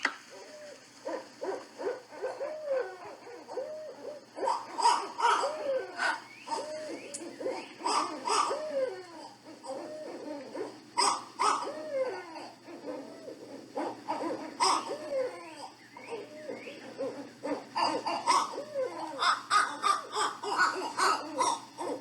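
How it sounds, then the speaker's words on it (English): Real owls caterwaul in a series of rising and falling hooting calls, loud and close, with wavering cackling bursts and pauses between them, several birds answering one another with no talking. "Here are some real owls doing this."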